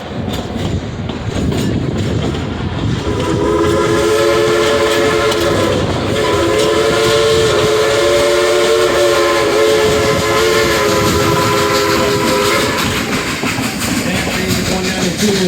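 A 2-8-2 steam locomotive, engine #192, rumbles loudly nearby with a chugging, clattering run while its chime whistle sounds a long sustained blast in the middle, fading near the end.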